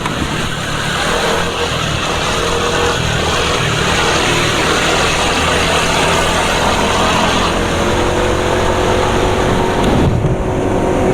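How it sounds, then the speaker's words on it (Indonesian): A Hi-Power XP1 motorcycle engine idling, a steady, loud, continuous mechanical drone with no break in level, close up and alone. "suara mesin masih cukup keras ini"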